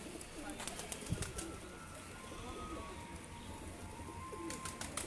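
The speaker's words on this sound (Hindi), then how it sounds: "ਦੇਖੋ ਜੀ ਇਹ ਪੱਲਾ ਦੇਖੋ ਜੀ ਕਬੂਤਰਾਂ ਦਾ। ਕਬੂਤਰ ਬਹੁਤ ਹੀ ਅੱਛੇ, ਬਹੁਤ ਹੀ ਨਿਜਾਬ ਕਬੂਤਰ ਨੇ ਜੀ।" Pigeons cooing in a village loft full of fine flying pigeons, soft repeated murmuring calls nearby with occasional wing flaps, faint voices in the background.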